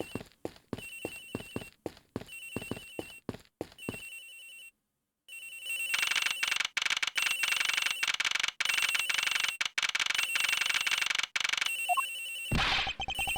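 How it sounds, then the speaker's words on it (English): A telephone in the video game Ace Attorney Investigations rings over and over in rapid electronic bursts, first choppy with brief pauses, then a dense continuous trill, loud and close. "The ringing's coming from somewhere in here, sir."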